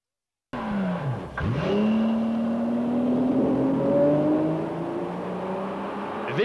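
A Jaguar XJRS 6-litre V12 coupé engine revs hard with a sharp downward swoop, then climbs steadily in pitch as the car accelerates, loud and close with a faint tire squeal.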